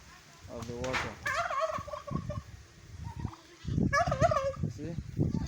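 Turkeys on an integrated farm gobble in repeated rippling bursts, loud and close, with goats and other livestock around and a person talking underneath.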